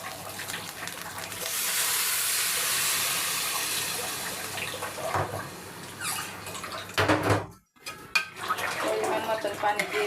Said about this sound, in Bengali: পরিমাণ মতন পানি দিয়ে দিলাম।